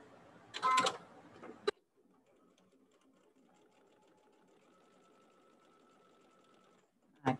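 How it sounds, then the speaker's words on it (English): A sewing machine stitches fabric pieces together in one short, close whirring burst, then a faint low hum continues through a quiet stretch. "now we're just gonna sew these together"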